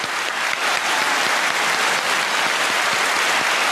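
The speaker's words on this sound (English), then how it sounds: "Let's give them all one more great round of applause" Loud, continuous clapping from a chapel congregation fills the space evenly, a thick wash of many hands with no pause or voices standing out.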